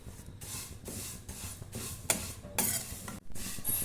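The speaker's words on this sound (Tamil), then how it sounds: "தீயை குறைந்த அளவில் வைத்து நம்ம இப்போ வறுத்துக்கலாம்." Flattened rice (aval) dry roasts over a low flame while being stirred, making quiet rhythmic rustling sweeps that repeat about twice a second, with no talking.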